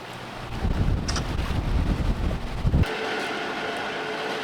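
A sailboat underway in wind while rounding a point toward an anchorage, with steady rushing wind and water noise and heavy low buffeting in the first three seconds that then eases to a quieter, even hiss.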